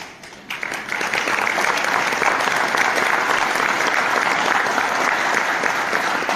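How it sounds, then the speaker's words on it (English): A lecture audience bursts into applause after a short lull, swelling to a loud, even wash of clapping that holds steady to the end. "Give a round of applause to him."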